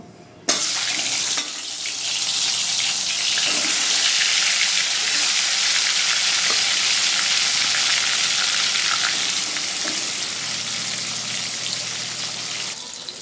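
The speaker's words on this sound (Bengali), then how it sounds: "এবার মাছগুলো একে একে সব ভেজে নেব।" Pieces of fish fried one after another in hot oil for a rohu fish curry, giving a steady loud sizzle that starts abruptly and holds for several seconds, with faint clinks of a utensil and no speech.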